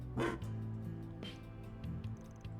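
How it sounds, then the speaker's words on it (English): A dog barks in the video game Trails Through Daybreak, one short, clear bark near the start and a softer yip shortly after, with background game music. "Just a dog, man. Just a dog."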